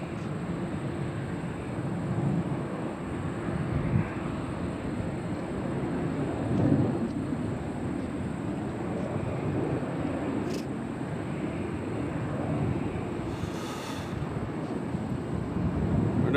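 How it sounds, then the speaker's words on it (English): Jet airliner taking off at Nashville International Airport, a steady broad roar that holds loud and even throughout without a clear rise or fade. "Now this plane taking off is going to be"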